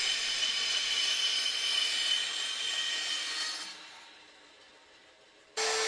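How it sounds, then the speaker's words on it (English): A bandsaw cuts the rounded corners off a small wooden tabletop, a steady loud whirring hiss that eases off as the cut finishes, then a brief burst of blade noise at the end. "which I then cut off with a bandsaw"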